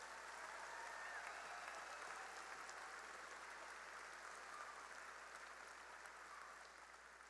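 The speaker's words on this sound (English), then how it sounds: "I think you need to give yourselves a round of applause." A crowd at the Western Branch High School 2021 graduation ceremony applauds, a faint and distant wash of steady clapping that thins out near the end.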